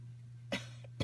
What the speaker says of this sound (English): which means I'm starting to cough again some more